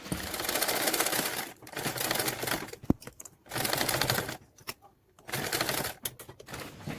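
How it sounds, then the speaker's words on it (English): A sewing machine joins two fabric pieces of a front panel with a 3 mm seam allowance. It runs in four rapid stitching bursts, separated by brief pauses, close up with no talking. "go ahead and stitch to join both pieces together"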